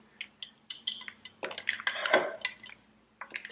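Pasta being gently tossed with poured dressing, giving soft wet squishing and clinking bursts close by, irregular and fairly quiet, with no talking.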